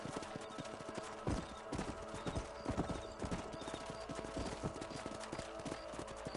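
Horse hooves clip-clop on the ground in Red Dead Redemption, a fairly close, steady rhythmic clatter of hoofbeats with occasional louder thuds and a faint snort.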